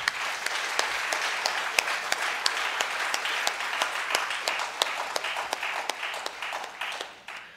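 An audience breaks into sustained applause, dense steady clapping close and loud throughout before tapering off at the end.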